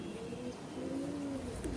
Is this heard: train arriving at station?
no